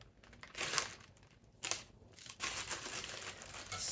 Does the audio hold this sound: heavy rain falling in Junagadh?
no